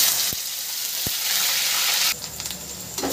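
Onions frying in hot mustard oil with bay leaves and dried red chillies, a close, loud continuous sizzle with a couple of brief knocks, the hiss shifting and easing slightly near the end.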